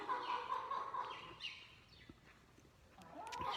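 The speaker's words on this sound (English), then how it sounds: "behind him are some of our chickens that you can see" Chickens cluck and chirp softly in a horse barn aisle at an equestrian center, a few scattered calls at moderate distance over quiet background noise.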